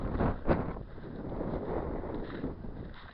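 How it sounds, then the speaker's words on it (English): Cold wind blows across open Scottish mountains, a steady rushing roar buffeting the microphone with a few stronger gusts, heard alone. "Just a cold wind, some wildlife."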